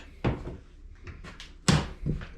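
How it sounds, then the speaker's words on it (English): A small fridge door in a Jeep Wrangler camp setting gives several knocking, clunking thumps as it is worked open, two sharper bangs standing out among lighter clicks. "Let's see what we got to eat. Can't open the door very good. Little fridge."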